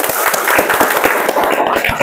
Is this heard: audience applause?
yes